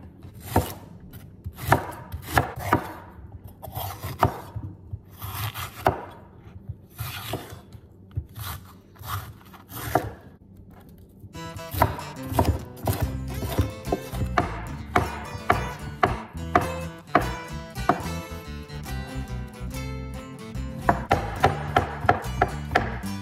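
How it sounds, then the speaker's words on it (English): A knife chops green pepper and mushrooms on a cutting board for chicken fajitas, giving crisp, close-up, irregular thuds and slices that become a faster, denser rhythm of cuts partway through, with no talking. "Are you guys ready for some chopping ASMR?"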